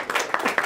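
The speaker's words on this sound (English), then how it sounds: "I get the clapping before I even say anything" Scattered audience clapping at an MIT campus talk on blended learning, a short burst of several claps from a modest crowd, moderately close and without talk.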